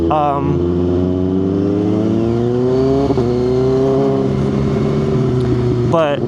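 A 2024 Kawasaki ZX6R motorcycle engine revs loudly and close, its pitch climbing through the gears with brief dips at the shifts, a strong buzzing harmonic howl that never lets up.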